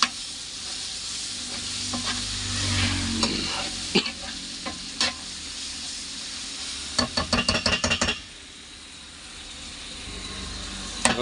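Ginger garlic paste frying in a pan for crab curry, a continuous sizzle with a spoon stirring and scraping, then a run of sharp rhythmic taps against the pan before the frying settles quieter.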